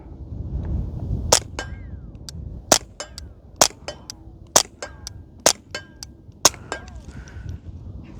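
Ruger MK IV Tactical pistol fired at a small steel target about 50 yards away, giving about nine sharp, evenly spaced shots, each followed by a faint metallic ping from the plate, over a low outdoor rumble.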